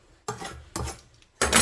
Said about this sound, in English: Push it forward while rubbing it on the other knife.